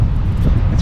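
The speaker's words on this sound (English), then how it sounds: "You hear that wind noise?" Wind buffeting a handheld microphone outdoors at the port in Callao, Lima, Peru, a steady low rumble with constant gusty roar throughout, no talk.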